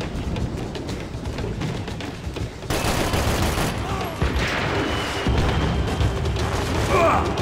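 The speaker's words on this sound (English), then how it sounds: "nice shot. Very nice shot" Gunfire in Max Payne 3 comes as a dense, booming barrage with sharp bursts mixed into heavy background noise, while someone talks over it.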